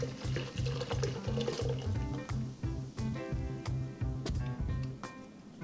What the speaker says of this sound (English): Let's pour out all the Mountain Dew into this saucepan.